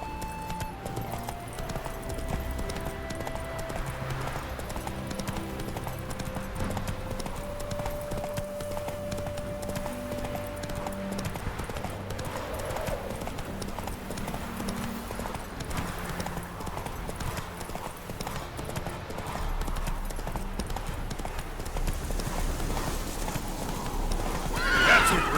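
Witcher 3 horse galloping with steady clip-clop hoofbeats and repeated neighs and whinnies, loud and continuous over game music and ambience throughout.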